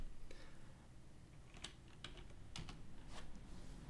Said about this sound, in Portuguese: Vou digitar só um ponto aqui no meu teclado.